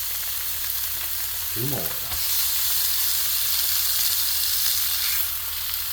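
A small ribeye steak sizzles on an electric griddle, a steady crackling hiss that rises louder after the first couple of seconds and carries on close by, with a brief spoken phrase early on.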